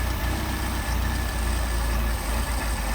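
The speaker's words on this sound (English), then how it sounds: "as you screw it in, screw it out, the engine's going to stumble" Engine idling on a Solex carburetor as its mixture screw is turned, a loud, continuous low rumble with slight unevenness in the firing rhythm.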